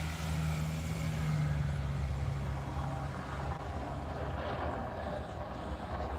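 Snow-clearing trucks rumble on a road far off on a snowy evening, a low, steady engine drone that stays faint and continuous with no talking.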